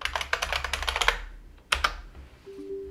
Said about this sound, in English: And you're gonna type in regedit.